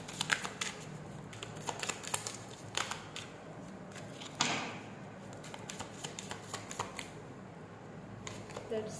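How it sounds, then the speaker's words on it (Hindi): Tarot cards being shuffled and squared up by hand, a run of soft, quick papery riffles and taps close by, repeating irregularly with one sharper snap partway through. "let me adjust these cards"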